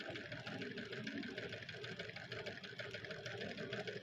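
An electric sewing machine stitches a coat collar, running at a fast, even rhythm with dense repeated needle strokes and a steady mechanical hum throughout, fairly quiet and close.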